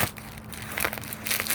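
Paper or plastic packaging being torn and crinkled open on a book parcel, a close, continuous rustling rip with crackly bursts toward the end.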